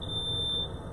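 A smoke alarm shrills in a home kitchen with a steady, piercing high tone sustained through most of the second, loud and close over faint room noise.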